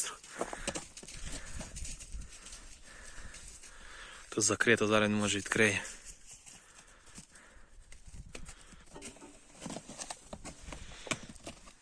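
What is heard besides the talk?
horse hooves walking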